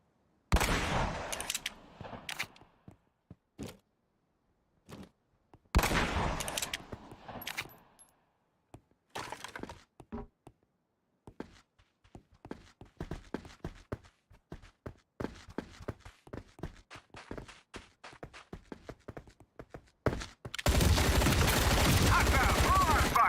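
Small arms gunfire in Hell Let Loose, loud close bursts early on, then a long run of rapid sharp shots and clatter, with footsteps and a steady loud roar near the end.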